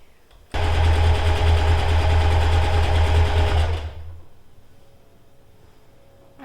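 A sewing machine runs for about three and a half seconds stitching fabric, with a loud, fast, even mechanical whir and a low motor hum. It then stops, leaving quiet room noise.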